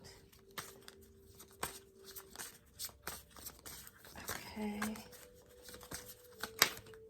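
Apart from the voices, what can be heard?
shuffling cards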